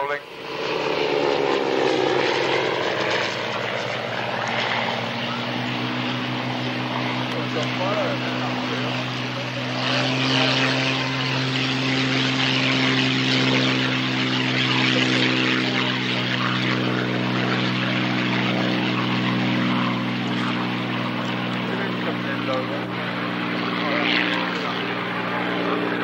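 Propeller warbird aircraft at the 1994 Great Warbirds airshow at Wroughton Airfield, a loud sustained piston-engine drone with a throbbing propeller hum that holds steady, while an announcer talks over it.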